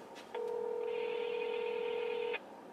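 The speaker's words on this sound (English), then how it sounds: "Gonna see if I can call ahead and place an order." Telephone tones while calling a restaurant ahead to place an order: a couple of short beeps, then a steady two-tone signal held for about two seconds before cutting off.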